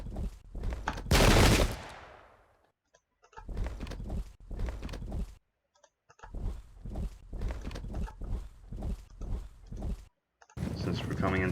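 Gunfire crackles in a war strategy video game, bursts of machine-gun fire and shots rattling in repeated volleys separated by short gaps, loud and close.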